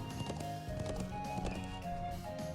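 Horse hooves clip-clopping in a Trails of Cold Steel role-playing game, a short even trot rhythm under quiet background music.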